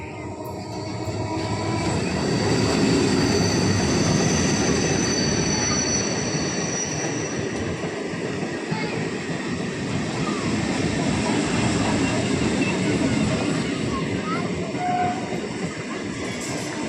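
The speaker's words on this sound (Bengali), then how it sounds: "এই দেখো এবার চলে এসছে কাছে ট্রেন গাইস" A passenger train running from Amghata toward Sealdah pulls in with loud, continuous wheel squeal and rumbling rail noise that swells and holds close by for the whole stretch.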